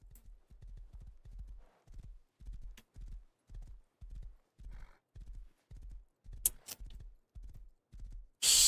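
Horse hooves clip-clop steadily in Rust, a clear, close, evenly paced walking rhythm of repeated hoofbeats, ending in a brief louder burst of noise.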